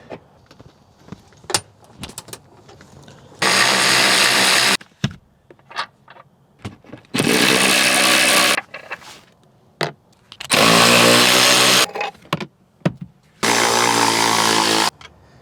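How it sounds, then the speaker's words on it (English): Battery-powered ratchet spinning out car seat bolts, four loud whirring bursts of about a second each, separated by short pauses filled with clinks and light handling noises. "Then we'll use our battery ratchet to undo them the rest of the way."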